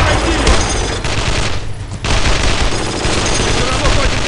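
Sustained machine gun fire rattles in dense, loud bursts in the WWII shooter Brothers In Arms: Road to Hill 30, with a brief lull partway through before the shooting resumes at full intensity.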